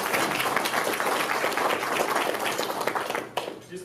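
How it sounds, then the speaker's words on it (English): A crowd at a police officer of the year award presentation claps in a dense, lively burst of applause that holds steady for over three seconds, then cuts off sharply into quieter room noise. "So let's just give a round of applause."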